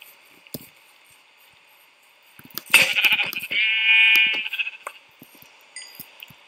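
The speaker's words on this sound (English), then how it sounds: "Sheep." A sheep in the Minecraft video game gives one bleat, wavering and fairly loud in the middle of the clip, with a few faint clicks and game noises before and after.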